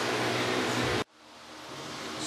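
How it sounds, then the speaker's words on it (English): An electric fan runs steadily in a room, a loud broadband whoosh that cuts out abruptly partway through, then returns more quietly and gradually swells back up; no one speaks. "Sorry about the noise, I've got a fan running in here."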